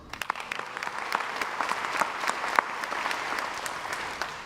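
Steady audience applause at a school district breakfast event, many hands clapping for several seconds with a few sharper individual claps standing out.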